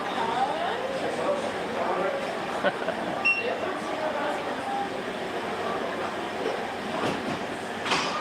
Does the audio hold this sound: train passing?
yes